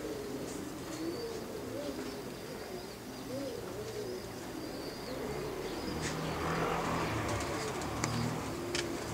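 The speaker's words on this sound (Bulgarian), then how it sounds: "Бял гълъб мина на камерата отгоре над нея." Pigeons cooing outdoors in summer, soft rolling coos repeating at a moderate distance, with a few faint chirps and a low background hum of distant traffic.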